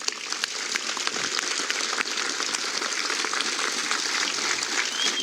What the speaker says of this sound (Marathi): त्याच्यासाठी एकदा तुम्हाला सर्वांसाठी शिवभक्तांसाठी जोरात टाळी आवाज आहे